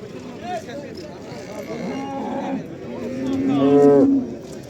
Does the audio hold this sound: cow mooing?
yes